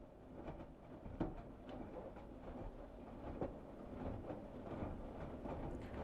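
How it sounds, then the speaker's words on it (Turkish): Quiet, low churning and sloshing with occasional soft thumps, a steady mechanical rumble of a Samsung washing machine with newly replaced shock absorbers running its wash cycle nearby. "Sadece makinenin şu yıkama sesi geliyor."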